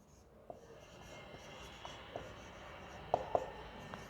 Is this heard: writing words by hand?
yes